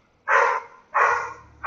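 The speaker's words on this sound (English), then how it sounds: "Dog, shut the freak up" A dog barks three times in steady rhythm, loud and close, with short pauses between barks and no talk.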